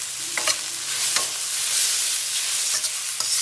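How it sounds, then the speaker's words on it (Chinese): Bean sprouts and carrots being stir-fried in a wok for a Chinese vegetable filling, a steady close sizzle broken by several sharp spatula scrapes and tosses, with no talking. "把豆芽和胡萝卜给它炒一个断生。"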